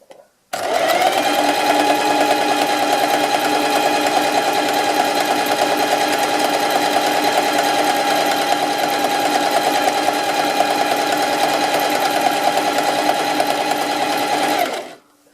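Loud, close sewing machine runs at a steady high-speed whir, stitching between rows on a knitted traditional Norwegian sweater with a boat neck, starting abruptly and stopping after about fourteen seconds.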